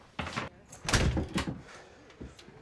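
A door swinging shut with a solid thunk, followed by clicks and rattles like a lock being turned, set among indoor movement noises and a little speech.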